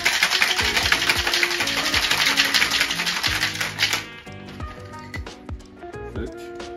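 Ice rattles fast and hard inside a cocktail shaker for about four seconds, then stops, leaving a few clinks over soft background music.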